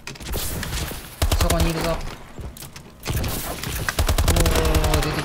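Rapid automatic gunfire in a Call of Duty: Advanced Warfare team deathmatch, loud rattling bursts in several volleys separated by brief pauses, with someone speaking briefly over the shooting.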